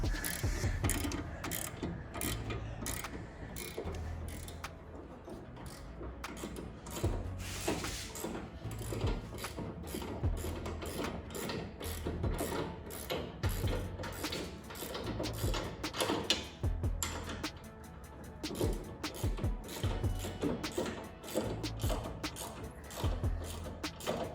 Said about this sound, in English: When it's tight, then you get your torque wrench out.